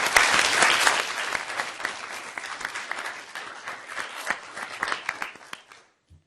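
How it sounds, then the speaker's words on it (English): An audience at the final round of the Froessel moot court competition applauds the competitors, dense sustained clapping that starts strong and gradually thins out before stopping. "can we please give a round of applause to all the competitors who worked tirelessly throughout the last 4 days and are here now"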